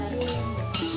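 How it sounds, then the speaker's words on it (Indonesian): Recek rice crackers fry in a pan on a village stove, heard as a continuous hiss and sizzle with occasional scraping and clinking of a utensil against the pan, close by and fairly quiet. "Goreng recek."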